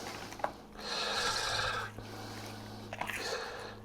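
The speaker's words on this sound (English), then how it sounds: "I just kind of rub them up good with the olive oil" Hands rub olive oil into pieces of sirloin tip roast beef, making close, soft, raspy rubbing strokes in two longer bursts with brief pauses between them.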